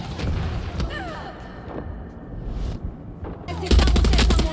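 Gunfire in the shooter game Far Cry 6: a quiet stretch with scattered noises gives way to a loud, dense burst of rapid shots near the end.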